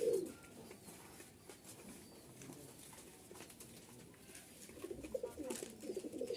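Pigeons in a loft with nesting birds, cooing in low, throaty bursts at the start and again toward the end, fairly faint against quiet background sounds.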